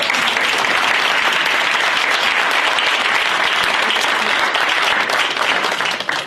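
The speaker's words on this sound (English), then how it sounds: "Let's give her a round of applause." Audience applause at a League of Women Voters candidate forum, loud, dense and continuous clapping from a crowd that holds steady for several seconds before tapering off at the end.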